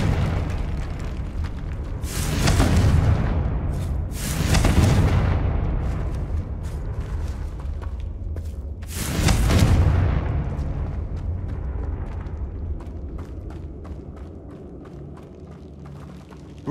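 Three heavy booming blasts from the Confringo fire spell in the video game Hogwarts Legacy, each a loud burst trailing into a rumble, spaced a few seconds apart over a low, steady ambient drone.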